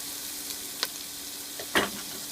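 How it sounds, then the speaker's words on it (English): Onion and rosemary sizzle steadily in a hot pan for a potato and rosemary risotto, a constant close hiss broken by a couple of sharp crackles and pops. "I'm going to put the onion in now."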